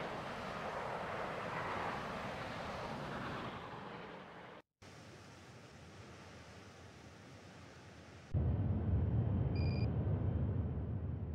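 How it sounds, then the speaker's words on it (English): Jet aircraft roar from F-35 fighters firing AMRAAM missiles in the naval strategy game Naval War: Arctic Circle, a broad steady rumble that drops briefly, then returns in a louder, deeper burst with a thin tonal whine over it. "The F-35 from the Teddy Roosevelt are now in AMRAAM range and launch against the unidentified enemy aircraft to the east."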